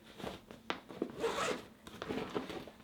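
Zipper pulled along a pocket on an F-Stop Gear Shinn 80L camera hiking backpack, a quick rasping zip near the start, followed by a longer drawn zip and further handling rustles, close and fairly quiet with no talking.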